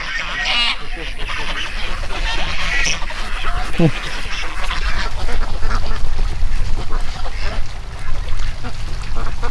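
Ducks quack and honk nearby in a noisy, overlapping chorus at an exotic animal park, with outdoor background noise and occasional murmured voices.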